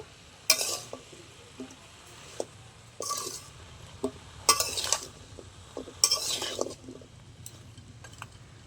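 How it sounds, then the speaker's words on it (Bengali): Mixed vegetables with freshly added chopped cabbage stirred and tossed in a pan, a soft sizzle underneath and several distinct bursts of scraping and clinking spatula strokes spaced a second or two apart. "এবার লাস্টে কেটে রাখা বাঁধাকপি দিয়ে দেবো। সব একসাথে ভালো করে মিশিয়ে নেব।"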